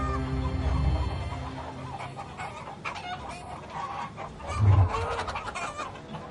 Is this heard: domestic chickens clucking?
yes